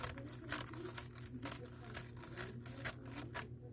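Scissors snipping through deco mesh while making a wreath, a run of quick close crisp cuts and crinkles in irregular bursts over a faint hum.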